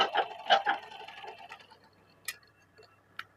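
A picot sewing machine running: a short burst of quick mechanical stitching clatter, then fading to a few faint isolated clicks, with no talking.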